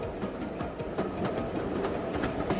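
Steady rumble and rhythmic wheel clatter of a train on the holiday line descending toward Goodrington Sands on the English Riviera, moderately faint and continuous with no voices.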